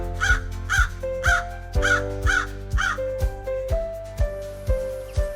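A crow caws loudly and nearby in a rapid series of about six harsh calls over background music.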